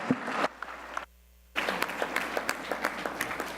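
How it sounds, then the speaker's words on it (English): A conference audience at a healthcare event applauds in a dense, steady clatter of many hands, breaking off briefly to near-silence before the clapping resumes just as strongly. "We get another round of applause for Mariam and Dr."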